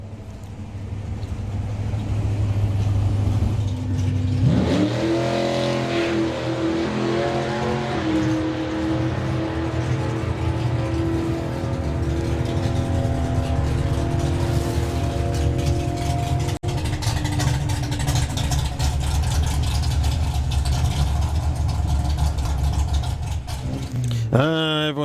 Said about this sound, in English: It's a good little side-by-side race we got going on here.